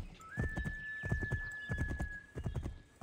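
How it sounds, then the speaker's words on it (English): Horse hooves clip-clop in a steady galloping rhythm while a long, sustained whinny rings out above them, close and loud, in the Assassin's Creed 3 video game. "come on, horse."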